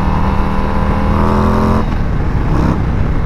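A 2021 Harley-Davidson CVO Road Glide motorcycle engine revving close up, a loud, deep rumbling drone that holds steady, then drops in pitch as the revs fall near the end, with no talking.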